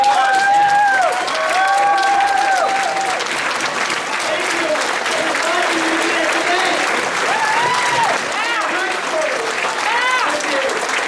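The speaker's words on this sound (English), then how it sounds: "Folks, stand up and give yourself an applause" Loud, dense audience applause fills a summit hall of union stewards, sustained throughout with cheering voices rising over it, while a speaker at the microphone talks over the clapping.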